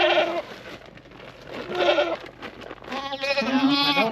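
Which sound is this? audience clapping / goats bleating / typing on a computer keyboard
goats bleating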